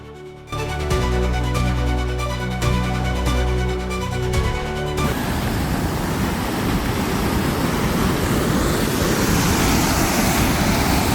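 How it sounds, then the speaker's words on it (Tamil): After a brief musical passage, a loud continuous rushing of Iranamadu water through a large canal in Kilinochchi fills the scene, a steady broad roar like a large flow close by. "இரணைமடு தண்ணி பாருங்கள், எவ்வளோ பெரிய ஒரு வாய்க்காலில் வந்து கொண்டிருக்கிறத பார்க்கக்கூடியதாக இருக்கும்"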